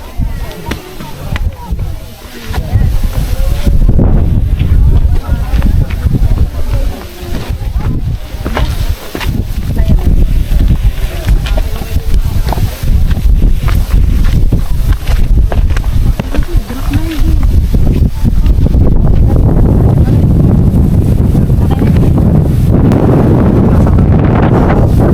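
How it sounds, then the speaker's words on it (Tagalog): Strong gusty wind buffets the microphone on the Mt. Batulao hiking trail, loud rumbling and flapping bursts filling the whole stretch, with hikers' voices faintly mixed in beneath. "Lalakas ng hangin, grabe."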